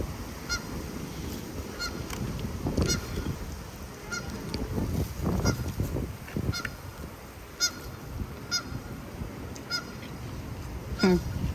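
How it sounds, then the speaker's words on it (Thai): Loud, repeated waterfowl honking, goose- or duck-like, close by at a Lao food truck in Visalia; the calls come in uneven bursts over steady outdoor background noise. "Duck's coming."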